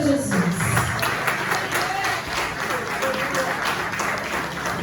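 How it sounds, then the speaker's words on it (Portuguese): A church congregation applauding for Jesus during a worship service, steady clapping throughout at moderate volume with voices mixed in underneath. "as palmas bem lindas para Jesus"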